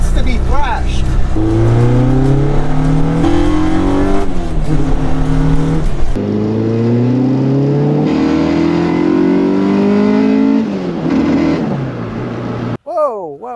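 A 1990 Honda CRX engine revs hard through repeated rising pulls, loud and close, with gear changes between climbs, ending in a sudden cutoff; a voice talks briefly near the end.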